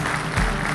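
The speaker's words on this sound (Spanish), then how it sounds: "Este aplauso es para vos." Studio audience applauding on a Spanish-language quiz show, a dense, steady burst of clapping heard only briefly.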